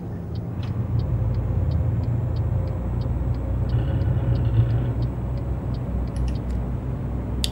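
Scania 360 truck engine in Euro Truck Simulator 2, pulling double trailers: a steady low droning rumble that holds without a break, with a faint repeating high ticking on top.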